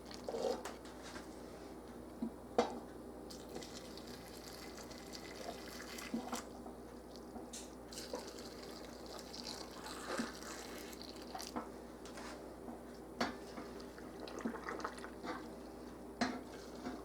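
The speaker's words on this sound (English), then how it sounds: "I'm just going to start filling them" Hot water runs into glass canning jars prepared for green beans and potatoes. A soft, steady trickle and splash is heard at moderate distance, dotted with occasional light clinks of glass throughout.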